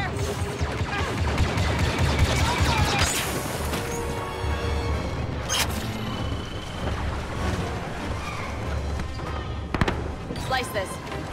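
Blaster fire in the Star Wars Battlefront II single-player campaign, repeated sharp shots and crashing impacts amid a noisy battle soundscape, with voices speaking over the action.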